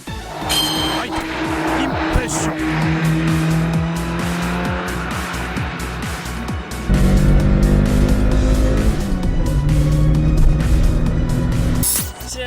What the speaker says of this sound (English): let's watch what kind of time Knight can put down driving the AE86